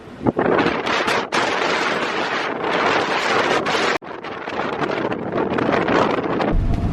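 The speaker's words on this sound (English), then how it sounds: "the wind is still blowing" Strong wind at sea while sailing from Florida to the Bahamas roars steadily and loudly, buffeting the microphone with rough gusts and a couple of brief drops, with no voices.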